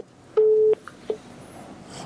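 A single steady busy-signal tone sounds once on a call-in phone line that fails to connect, followed by faint clicks and low line noise.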